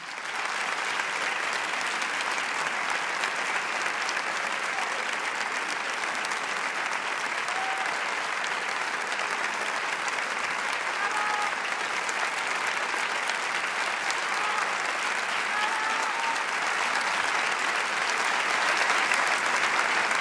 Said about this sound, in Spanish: vos pregue un passional i passional de tot cor aplaudiment